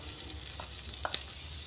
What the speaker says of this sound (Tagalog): Sa kawali, magpainit ng kaunting mantika. Ating igisa ang bawang.